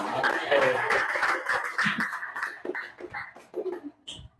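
A classroom of students clapping for a group after answering in an economics lesson on traditional and digital economies, a brief burst of scattered applause that thins out within a few seconds, with some voices mixed in.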